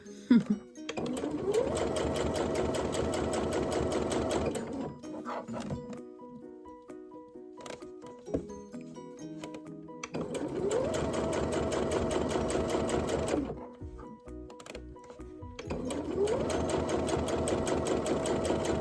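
A sewing machine stitches a seam on a coat in three long, steady whirring runs separated by pauses with handling noises, close and clear, with a voice speaking softly between bursts.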